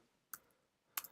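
Two crisp keystrokes on a computer keyboard, separated by a short pause, each sharp and quiet in an otherwise silent room.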